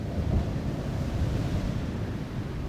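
Ocean waves wash steadily onto a California beach, a continuous broadband roar of surf with wind buffeting the microphone, close and fairly loud with no voices.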